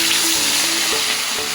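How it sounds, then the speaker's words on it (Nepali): Fish pieces frying in hot oil for a homemade fish curry: a steady, close, bright sizzle that runs throughout with no talking over it. "now hot oil is ready to fry the pieces of fish"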